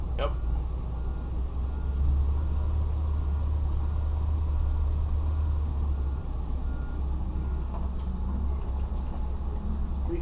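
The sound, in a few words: old bus moving after sitting for eight months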